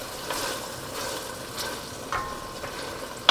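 Canned San Marzano tomatoes are stirred in a soup pot, giving soft, faint scraping and sloshing strokes in an irregular rhythm, with a sharper knock at the end.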